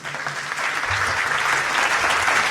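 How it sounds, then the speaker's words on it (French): An audience at a Christmas evening show gives an ovation, dense clapping that quickly swells and stays strong and even throughout. "Ovation pour tous qui êtes là ce soir, s'il vous plaît."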